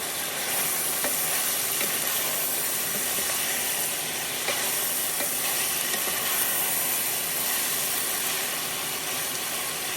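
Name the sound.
maple New England chili cooking in pan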